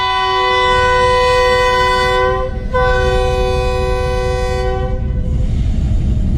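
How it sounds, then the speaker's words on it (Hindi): The Thal Express at Rawalpindi station sounds a long, loud, multi-tone train horn before departure, with a brief break partway through, heard close and over steady station background noise. "फर्स्ट विसल हो गया है।"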